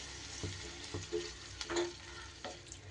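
Pumpkin and coconut ghonto with slit green chillies cooks in a pan: a steady sizzle with a few distinct stirring scrapes and clinks at irregular intervals, close and moderately loud, with no talking.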